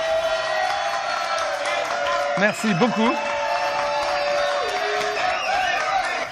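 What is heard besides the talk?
studio audience applause and cheering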